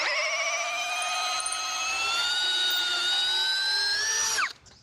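A Huber HBD2116 21V brushless cordless drill bores into ulin ironwood, a high whining motor pitch that rises slightly under load for about four seconds, then winds down as the trigger is released.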